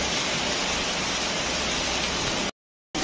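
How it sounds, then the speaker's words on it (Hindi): Heavy rain pours in a steady, dense hiss with no pauses in its texture, loud and close, broken only by a brief cut to silence near the end. "बारिश हो रहा है"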